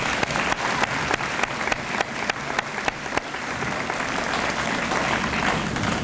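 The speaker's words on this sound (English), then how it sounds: "Let's give these students a nice round of applause." An audience at a school honors assembly applauds honored students, sustained dense clapping through the room at moderate loudness, with a few sharper individual claps standing out early before it settles into an even wash.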